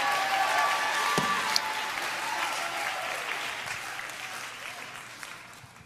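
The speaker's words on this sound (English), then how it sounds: "give the Lord the greatest hand clap and shout that you've ever given anybody" A church congregation at a revival-style service bursts into sustained applause and shouting, a dense roar of clapping that fades slowly and carries no clear speech.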